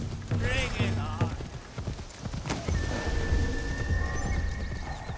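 Hooves of a horse in Assassin's Creed Shadows clip-clop steadily beside a neigh, with rain and distant thunder in the game world and a player talking over it.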